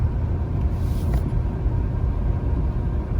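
A 2019 Ford F-450 Limited pickup towing a heavy trailer at highway speed, a steady low rumble of engine and road noise from inside the cab, continuous and even, with no voices.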